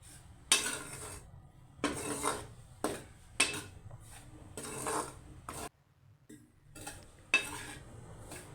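Gram flour and semolina roast together in a pan, a spoon scraping and rasping across the metal in repeated strokes with brief pauses between, close and fairly quiet.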